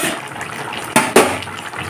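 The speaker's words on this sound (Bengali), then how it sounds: "এখন জল দিয়ে দেব আলু আর ডাঁটা সিদ্ধ হওয়ার জন্য" Water pours into a pot of potatoes and drumstick pieces, a steady splashing stream with two sharper sloshes partway through, close and loud.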